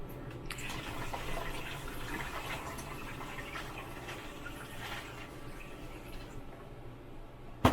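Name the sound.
water poured from a pitcher into a boat's ice maker tray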